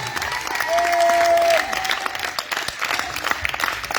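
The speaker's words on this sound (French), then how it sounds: "acclame le Seigneur Jésus-Christ. Que le acclame avec toutes tes forces, acclame le roi de gloire." A church congregation applauds and acclaims Jesus at a prayer and healing revival service, a short burst of clapping and cheering from a crowd with a sustained tone over it, fading after a couple of seconds.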